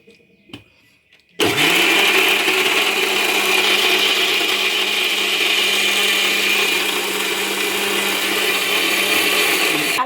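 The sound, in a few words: mixie blender grinding bananas for cake batter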